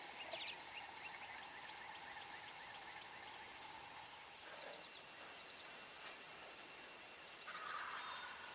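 Wild turkeys in a flock of bearded birds on Illinois land gobble faintly in the distance, scattered calls rising over a soft outdoor background, no voices.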